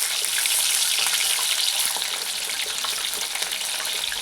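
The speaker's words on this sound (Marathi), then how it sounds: "तुम्हाला अजून एकदा मी ही ट्रिक करून दाखवते की चिप्स तेलामध्ये कसे सोडायचे आहेत ते." Slices of banana being made into chips drop into hot oil and fry with a bright, dense, close hiss of bubbling that stays loud and continuous, with no talking.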